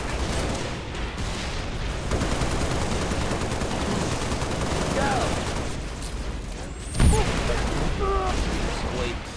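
Rapid gunfire rattles through a Halo Reach battle on the mission The Package, dense volleys and bursts with a sharp loud blast near the end, amid ongoing combat clatter.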